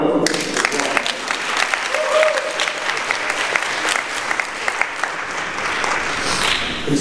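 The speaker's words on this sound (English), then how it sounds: "Let's give them another round of applause." Dense applause from a conference audience fills the room, a steady wash of many hands clapping at once, loud and sustained throughout with no break.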